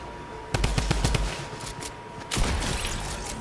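Drum gun fires in Fortnite in a rapid, loud burst of shots, followed by a second dense volley after a short pause, with no talk during it.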